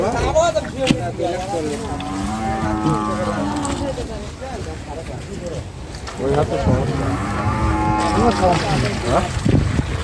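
Cattle at a large outdoor cattle market moo in long, drawn-out calls, two clear bellows close by over a busy crowd murmur, with people talking around them.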